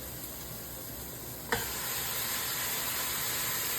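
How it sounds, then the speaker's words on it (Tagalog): Chicken pieces sautéing in a pan for tinola, a steady close sizzle that jumps louder with a sharp clatter halfway through as more food goes into the hot oil, then continues as a dense hiss. "habang ginigisa yung chicken"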